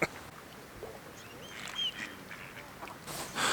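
A duck at Lough Tarn, a lake, gives a few short nasal quacks in open outdoor air, moderately close, with breezy background noise between calls.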